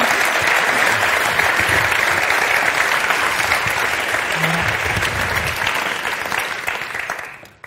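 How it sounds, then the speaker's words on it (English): Warm applause from an audience greeting authors Tommy Wieringa and Paolo Cognetti as they come on stage, a dense steady wash of clapping that holds for several seconds before fading out at the end. "ask you to give them a really warm applause"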